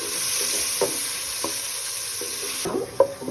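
Small diced potatoes coated in salt and turmeric frying in oil, a continuous close sizzle broken by a few scraping stirs and spatula knocks against the pan, no talking.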